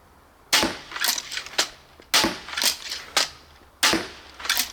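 Pistol crossbow firing bolts, three sharp snapping shots each followed by clattering mechanical clicks and rattles, close and loud in a quick irregular sequence.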